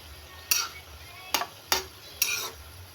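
Sautéed ground meat with bottle gourd is stirred in a pan, giving four distinct scraping strokes of a utensil against the pan, close and fairly loud, over a soft sizzling background.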